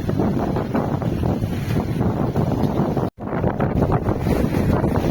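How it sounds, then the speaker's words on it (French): Strong wind of nearly 20 knots at sea aboard a sailboat in rough water between Kos and Astypalea, a heavy, constant rushing roar buffeting the microphone, with one brief dropout. "Il y a quasiment 20 nœuds de vent."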